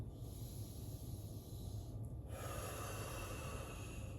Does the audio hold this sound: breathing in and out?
yes